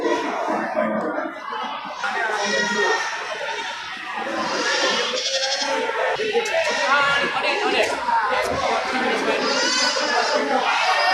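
Big billy goats for the sacrificial trade bleat among the crowd at the Geulumpang Payong goat market in Bireuen, repeated wavering cries from several animals under steady nearby talk and market chatter.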